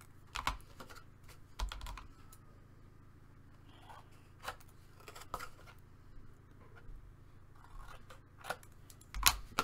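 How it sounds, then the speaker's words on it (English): Scissors snipping excess paper overhang off a scrapbook album page, a scattering of quiet, sharp clicks and snips spread irregularly across the stretch with soft handling noise between them. "have a little bit of overhang here that I just want to snip off."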